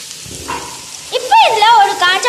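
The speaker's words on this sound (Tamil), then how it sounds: "இப்போ இதில் ஒரு பெரிய வெங்காயத்தையும் கருவேப்பிலையையும் போட்டுக்கலாம்." Large onion and curry leaves dropped into hot oil for Chettinad mutton chukka, giving a close, steady frying sizzle that grows louder partway through, with a voice-like tonal sound rising over it.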